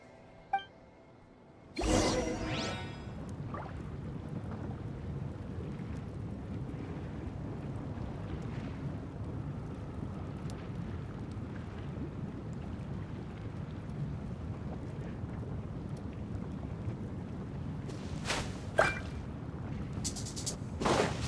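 A boat carving through waves in the game Meztli: People of the Springs, a steady broad rushing wash of water starting abruptly after a brief quiet moment and continuing loud and unbroken, with a few sharp splashy bursts near the end.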